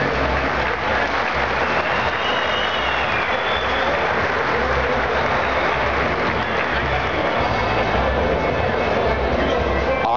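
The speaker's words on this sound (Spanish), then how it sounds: "El aplauso para Ufera de concurso estuvo algo débil." Sustained, dense applause from an audience at a contest event, loud and steady throughout with a broad crackling wash and a low rumble beneath, no clear pauses.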